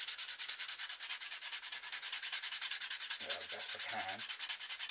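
Brisk, even sanding strokes on a homemade ferro rod neck sheath rasp close and loud in a fast steady rhythm, continuing while a voice briefly speaks toward the end.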